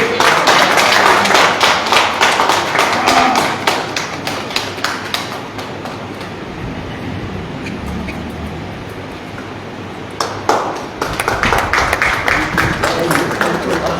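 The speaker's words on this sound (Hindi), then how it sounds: "तालियां बजाइए जोर से।" Audience applause at a Hindi book launch ceremony for a heroic epic poem in Kashipur, with dense clapping loud at the start, thinning in the middle and swelling again near the end.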